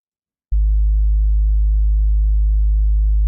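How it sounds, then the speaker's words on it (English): A plain low sine wave tone switches on abruptly after half a second of silence and holds steady and unchanging to the end. "If we turn these into basic shape sine waves?"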